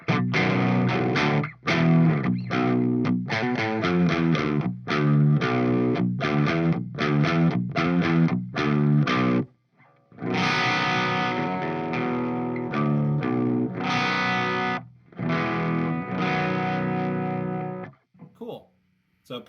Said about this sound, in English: I'm playing through an Epiphone Les Paul standard, straight into the pedal